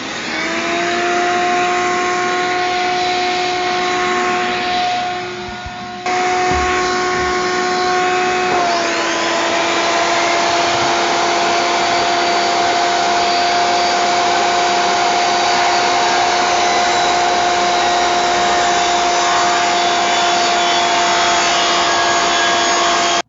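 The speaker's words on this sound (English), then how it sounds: "Okay, I'm going to hook up the shop vac." Shop vacuum running continuously during outdoor work on a pressure-treated wood fence, a loud steady whine with a brief dip and pitch shift early on before settling into an unbroken drone, no talking.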